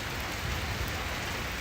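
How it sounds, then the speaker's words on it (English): Rain falling from a thunderstorm cell hovering over Miami: a dense, steady hiss of drops striking surfaces, close and constant, with no voices and no thunder. "now it's starting to rain from that cell."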